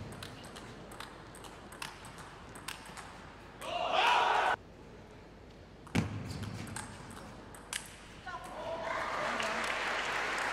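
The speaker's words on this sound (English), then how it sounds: "fans also cheering for the Chinese team" Table tennis fans at the 2019 ITTF Bulgaria Open in a women's match give short bursts of cheering and clapping between sharp ball pings and thuds, moderately distant in an arena, with commentary running over the top.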